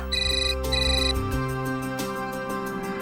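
A phone ringtone plays as a loud electronic melody of bright, sustained tones that change pitch in steps, running steadily for the whole stretch with no voices over it.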